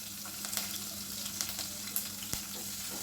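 Curry leaves and green chilies fry in oil with a soft, even sizzle throughout, marked by a handful of brief clicks and taps from stirring.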